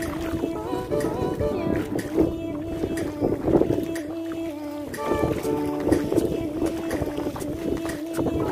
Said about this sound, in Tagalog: Medyo mahangin lang.